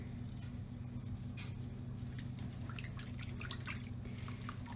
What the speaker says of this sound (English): I just gently pry it apart in the water with my fingers